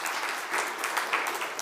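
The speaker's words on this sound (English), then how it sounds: "Applause here." Applause from a conference audience at an open-door event, a steady dense clatter of clapping filling the short stretch with no voices.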